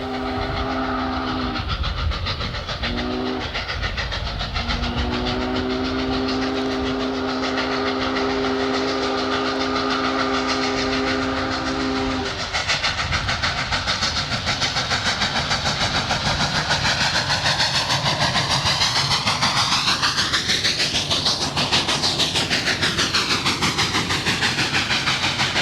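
Union Pacific 844, a giant 4-8-4 steam locomotive with 80-inch drive wheels, hauls a 5,290-ton train up Archer Hill east of Cheyenne, whistle sounding in long blasts over a loud, steady roaring exhaust that rises and shifts as it passes.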